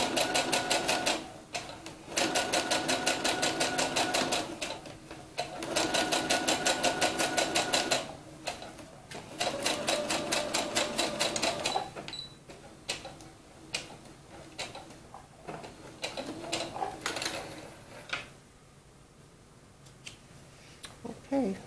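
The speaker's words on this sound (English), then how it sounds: "Sew a couple stitches up." A sewing machine stitches a doll's dress in rapid, mechanical ticking runs that start and stop several times, close by, followed by quieter fiddling and handling noises with a voice talking in between.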